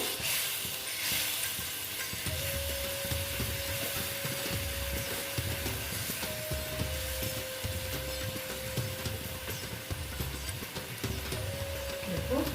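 Pointed gourd (potol) cooking in a pan hisses in a steady, even sizzle after water is poured in, with faint stirring clinks and a low hum running underneath.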